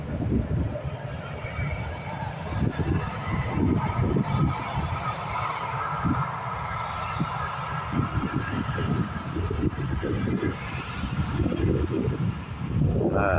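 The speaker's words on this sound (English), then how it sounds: "It's a Valjet Cessna 525A. The citation is up and away." A Cessna 525A Citation business jet departs from an airport, its engine roar steady and fairly loud, rising toward the end of the clip.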